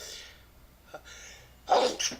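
One sharp, close sneeze from a man bursts out after a few faint breaths, with a small trailing exhale afterward and no talking.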